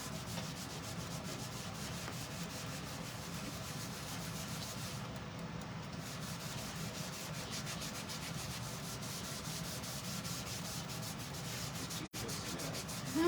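Wax is scrubbed off a transfer by hand, a continuous rhythmic rubbing and scraping close by that runs steadily with no voices, broken only by a brief pause near the end.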